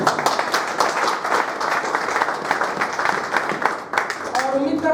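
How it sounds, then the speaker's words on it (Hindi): Loud, dense clapping comes from an audience at an indoor presentation, with individual claps standing out in a fast, steady stream across the whole stretch and a voice starting to speak near the end. "इसके लिए आप लोग सभी अपने आप के लिए जो तो ज़ोरदार तालियां बजाइए"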